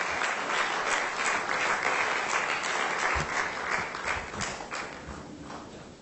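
Big round of applause from an awards-night audience honoring a Goa hotel at a corporate excellence ceremony, steady dense clapping throughout that gradually tapers toward the end.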